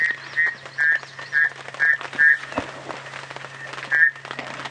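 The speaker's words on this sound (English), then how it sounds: "I can hear the frogs, Brian." Frogs croak in a steady repeating chorus, olive toad-type calls pulsing loudly and close, against a constant low hum during an early morning bushveld safari drive.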